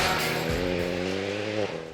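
A rally car drives hard on test tires, its engine note climbing in steady harmonic tones with a dip and pickup near the end, loud and close throughout.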